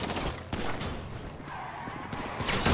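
Video game gunfire in Grand Theft Auto V, a dense burst of shots and action noise running throughout, loud and close, mixed with vehicle and skidding sounds.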